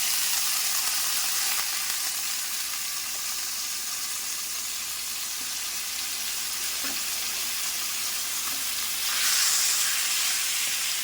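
Pork pieces frying for adobong sitaw, a steady close sizzle in the pan that runs unbroken throughout, with a brief hiss of steam swelling near the end.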